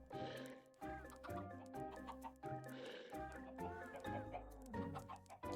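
Chickens cluck repeatedly in a Stardew farming video game, the bursts of clucking running steadily over a busy layer of game music.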